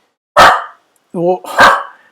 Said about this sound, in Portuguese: Agora vai ter áudio da minha cachorrinha aqui, porque a gente está recebendo visita em casa.